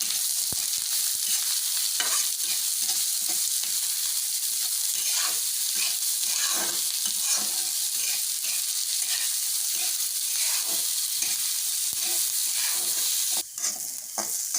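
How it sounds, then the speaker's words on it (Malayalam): Chopped onions frying with green chillies and garlic in a pan, a dense steady sizzle broken by rapid, regular scraping stirs close up, with no voices. "ഞാൻ സാവാള അരിഞ്ഞത് അങ്ങോട്ടേക്ക് ഇടുന്നു ഇളക്കി യോജിപ്പിക്കുന്നു"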